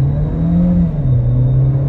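A Seat Arona with an XDS electronic differential lock accelerates hard from a standstill toward 100 km/h, its engine note rising in a loud, steady, close drone that climbs in pitch through a gear change, heard from inside without talk.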